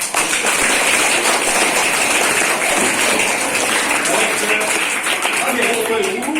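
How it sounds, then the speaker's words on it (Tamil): Audience at a Tamil school festival gathering claps continuously, a dense steady wash of hand claps that holds at one level throughout, with a few voices mixed into the crowd. "இது கைத்தட்டலாம்."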